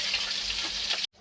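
Chopped chilli, garlic and capsicum sizzle and hiss steadily in hot oil left from frying chicken, a close, bright crackle that cuts off abruptly near the end.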